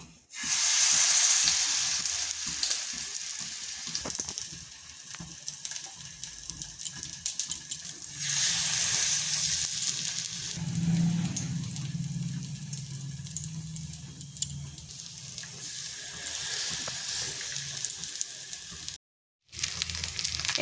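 Cabbage pieces dipped in batter fry in a lightly oiled pan over low heat, giving a steady close sizzle that swells and fades, with a brief dropout near the end.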